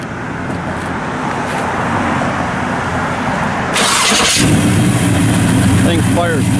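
A 1966 Chevrolet Nova II SS cranks and fires, then settles into a loud, rumbling idle up close, with steady background noise before the start.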